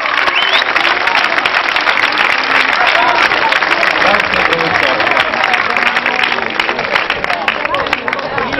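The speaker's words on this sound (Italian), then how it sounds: "Un grande applauso al nostro preside." A school audience in Siracusa applauds its principal with dense, loud, continuous clapping that fills the whole stretch, a crowd murmur mixed in.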